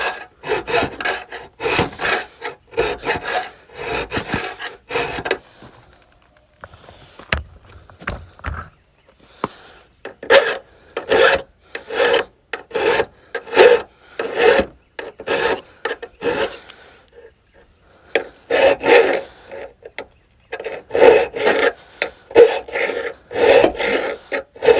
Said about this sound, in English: I'm gonna hit that with a file again